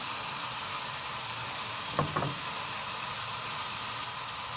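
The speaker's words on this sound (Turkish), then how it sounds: "Baharatlarıyla da şöyle güzelce bir harmanlıyorum. 2-3 dakikada böyle baharatıyla pişecek." Minced meat with salt, pepper and spices cooking in a pan for a stuffed-eggplant dish: a loud, steady close sizzle throughout, with a couple of brief utensil scrapes midway and no voices.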